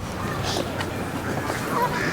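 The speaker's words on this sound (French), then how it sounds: "Non, c'est des canards, ça va, vous entendez?" Ducks quack repeatedly over a steady background hiss, fairly close, with faint voices talking now and then.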